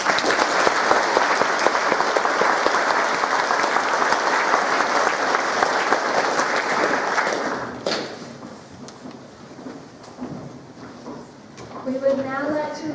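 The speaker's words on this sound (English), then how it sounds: "Please join me in giving them a round of applause." A school honours assembly audience applauds steadily for about eight seconds, dense and even, then the clapping thins out to scattered claps. A voice speaks briefly as the applause fades.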